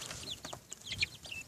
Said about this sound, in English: I have 15 baby chickens.